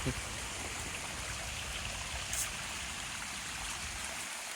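Rainwater from heavy monsoon rain in rural Konkan flows and trickles in a soft, continuous stream, quiet and steady, with no voices.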